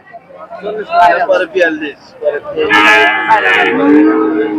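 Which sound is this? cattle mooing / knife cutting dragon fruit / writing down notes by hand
cattle mooing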